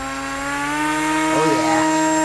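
A DIY RC boat built from plane parts runs its electric motor at full throttle, a loud, steady high whine that climbs slightly in pitch across the clip.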